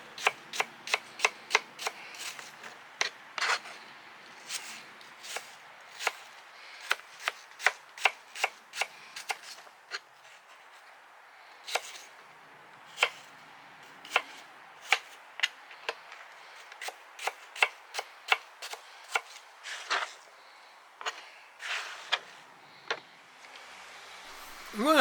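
Granny Smith apples are finely chopped with a knife on a board in sharp, close, irregular knocks, sometimes in quick bursts and sometimes in slower, spaced strikes over a quiet background.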